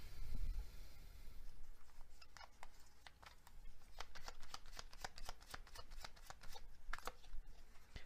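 Tarot cards are shuffled close up and quietly, with soft rapid flicks and riffles that patter irregularly and then quicken.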